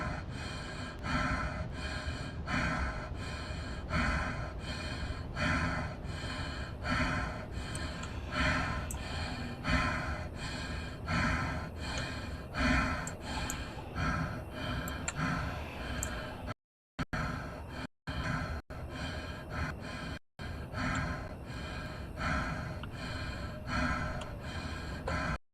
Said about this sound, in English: I hate how that breathing sounds.